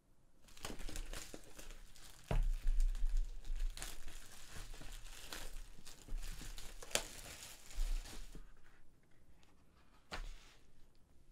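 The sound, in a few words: cellophane being removed from a Surface Pro 6 box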